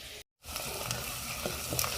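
Tomato, green chillies and curry leaves sauté in a pan for a village-style black chicken curry, with a steady close sizzle. A brief dropout cuts it, then the frying resumes louder with a few crackles and no speech.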